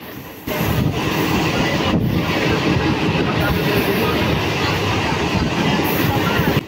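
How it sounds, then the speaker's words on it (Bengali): A Masagram local train overtakes a WAG5 locomotive on the Howrah line, passing close by with a loud, steady rumble and rhythmic wheel clatter that carries through the whole stretch. "WAG5 কে মশাগ্রাম লোকাল ওভারটেক করে বেরিয়ে যাচ্ছে"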